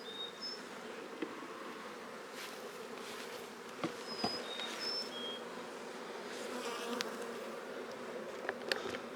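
Honeybees swarm around an opened beehive during a hive split, a steady, dense buzzing drone with occasional individual bees flying close past and a few faint bird chirps.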